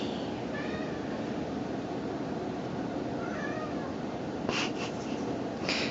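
A cat meows repeatedly from inside a carrier during a chiropractic and acupuncture visit, a few drawn-out cries spaced across a steady background hiss.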